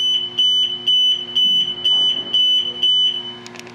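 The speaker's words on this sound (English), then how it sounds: "It's going to give you a light and an alarm to tell you that it's going to start up." A trash compactor's start-up warning alarm in an apartment building sounds loud, repeated piercing beeps in a steady on-off rhythm, about seven pulses over a constant low machine hum, with no talking.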